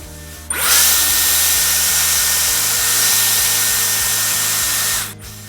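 A Dyson Airwrap with the firm smoothing brush runs as a loud, steady whir for about five seconds while drying hair, switching on abruptly and cutting off near the end.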